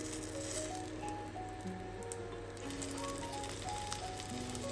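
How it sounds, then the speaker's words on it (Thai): Rice paper rolls frying in a little oil in a pan, a faint, steady low sizzle and crackle with occasional small pops under a constant background hum. "เราจะทอดให้สีออกมาสวยงาม เป็นสีน้ำตาลแบบนี้ดูน่ากินมาก"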